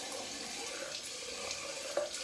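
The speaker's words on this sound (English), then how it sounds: "Put some cold water on." Cold water runs from a bathroom tap after a shave, a soft, steady hiss of flow at moderate distance with a slight splash near the end, no talking.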